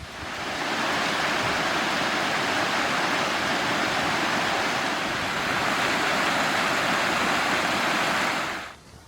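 Steady, loud rushing roar of falling water, continuous and broadband, cutting off abruptly at the end.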